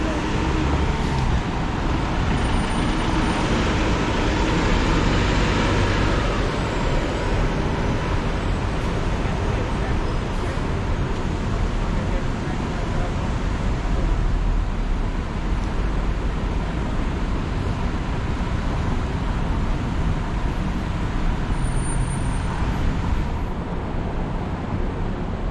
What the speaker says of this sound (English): So traffic is backing up in Waikiki.